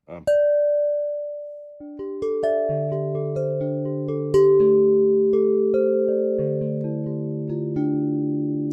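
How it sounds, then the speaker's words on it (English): A pure-tone crystal bell synth hit pitched at A2 strikes clearly and rings out alone. Its bright tones overlap into a long, shimmering sustain with a few soft restrikes as it slowly decays. "it's this beautiful pure tone crystal bell"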